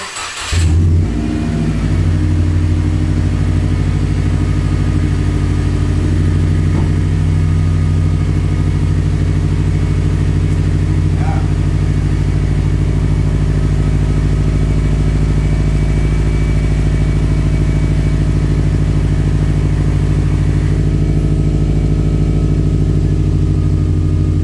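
A Subaru WRX with a Nameless Performance muffler delete fires up on a cold start, then holds a loud, deep, steady rumbling idle close by with no talking.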